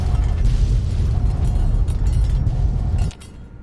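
A violent explosion erupts as the Divide goes up in fire at the Lonesome Road ending of Fallout: New Vegas: a loud, sustained roaring blast that rumbles heavily for about three seconds before cutting off abruptly into a faint tail.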